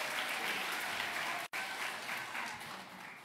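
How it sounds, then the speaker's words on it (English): Dense applause from a seated audience at a governor's summit on disabilities, sustained and fairly loud, broken by a very brief cut near the middle before continuing. "One more round of applause for the whole seated audience group up here."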